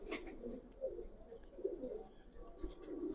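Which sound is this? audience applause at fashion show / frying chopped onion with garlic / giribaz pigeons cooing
giribaz pigeons cooing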